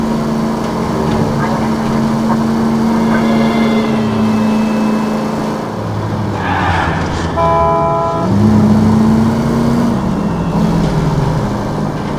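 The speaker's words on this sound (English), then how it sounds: "That's the car, Cole. Just pulling out of the drive." A car in the L.A. Noire video game pulls out of a driveway, its engine droning steadily throughout with a rising engine note partway through and a brief horn-like tone, over a constant background.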